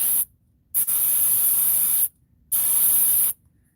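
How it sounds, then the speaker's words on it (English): QD electrical cleaner sprayed from an aerosol can onto the contacts of a BMW sensor, three loud sharp hissing bursts of varying length separated by short silences, close and with no talk. "We got electrical cleaner. This QD electrical cleaner, and this cleans the contacts."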